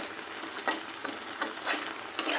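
Boiled taro greens are stirred in a pan, soft sizzling under a handful of brief scraping strokes spaced irregularly, close and fairly quiet.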